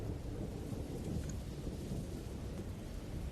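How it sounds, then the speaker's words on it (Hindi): Steady rain falls with low rolling rumbles of thunder, a faint, continuous storm with no voices. "शुरू हो गई बारिश"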